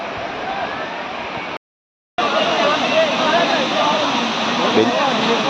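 Constant roaring water from the Anachadikuthu waterfall in Kerala fills the scene, broken by a brief silent cut partway through, with voices faintly mixed into the rush.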